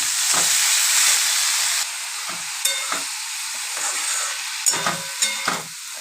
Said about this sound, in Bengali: বেগুনগুলো ভাজা হয়ে গেলে এবার শাকটা দিয়ে দিচ্ছি।